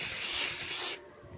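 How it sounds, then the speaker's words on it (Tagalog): An aerosol can of fixative sprayed over a charcoal drawing, one close, loud, continuous hiss lasting about a second that cuts off abruptly into quiet room tone, with no voices. "Spray lang natin ng ganyan."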